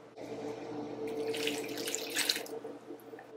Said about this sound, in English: now we're gonna pour in the vegetable broth